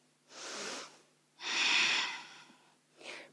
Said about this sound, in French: 5 respirations.